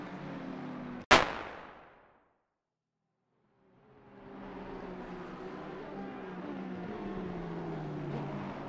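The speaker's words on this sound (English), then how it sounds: "there was a huge explosion sound in-game for some reason" A sudden loud bang from a GT3 sim racing game at Watkins Glen decays over about a second into silence. Steady in-game car engine and ambient noise then returns.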